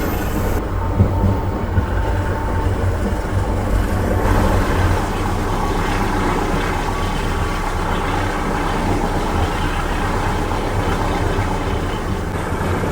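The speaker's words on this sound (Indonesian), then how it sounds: "di sini kereta api Sancaka Utara mulai berbelok ke kiri mengarah ke jalur tengah dan jalur utara" Sancaka Utara passenger train rolls steadily through a curve at night, a constant low rumble of wheels and carriage noise heard from on board.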